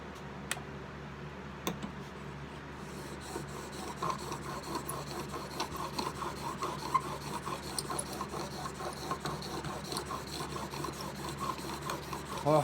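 Steel chisel rubbed back and forth on a cheap sharpening stone gives a soft, steady rasping scrape with faint rhythmic strokes, close and quiet, and no talking.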